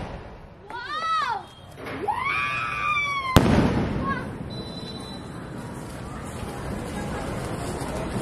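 Whistling fireworks shriek upward, then a sharp bang bursts close by, followed by crackling and fizzing as children's voices chatter in the background.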